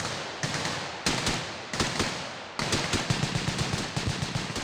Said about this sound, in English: This SEAL squad is practicing a coordinated leapfrog movement using live ammunition.